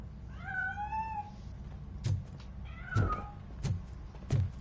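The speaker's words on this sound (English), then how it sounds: "That cat must be hiding inside." A cat meows in a video game, a few rising-and-falling mewls standing clearly above a low, steady game-sound bed, with dull thuds between them.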